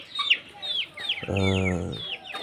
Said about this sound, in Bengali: এখানে কিছু টাইগার মুরগি বাচ্চা আছে